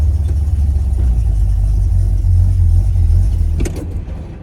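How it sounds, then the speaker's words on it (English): A Pontiac GTO backing out, its engine a loud, steady low rumble held close throughout, easing off near the end after a brief higher rattle. "Let's back the car out here."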